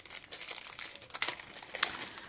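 A plastic zip bag from a complete tool kit is handled up close, giving soft crinkling rustles with a couple of sharper crackles, fairly quiet and without speech.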